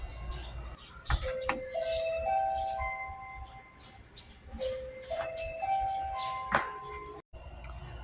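Electronic doorbell chime at a house under construction in the Philippines: a melodic sequence of clear, ringing tones plays twice, a few seconds apart, over faint background noise.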